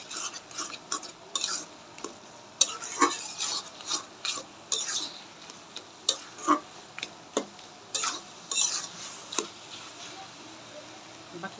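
Semolina is stirred in a pan with a utensil, giving a series of irregular scraping strokes and clinks against the metal, set against a quiet background with a faint sizzle.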